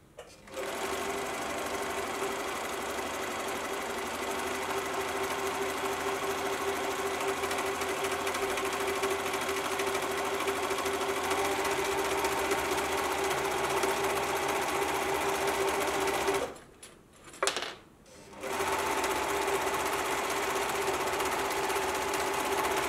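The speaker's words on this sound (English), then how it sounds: "I'm going to go to the serger now" A serger overlock sewing machine runs at speed in a close, continuous mechanical chatter, pausing briefly twice around the seventeen-second mark before starting up again and running on to the end.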